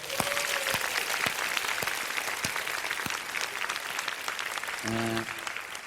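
Audience applause at a Thai one-man comedy show, a steady wash of clapping filling the room for several seconds, with a brief sustained musical tone near the end.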